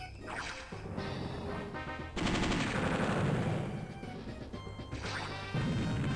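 An Md tank attacks in Advance Wars: Dual Strike with loud, rapid bursts of gunfire and crashing impacts over game music, building to a denser barrage midway.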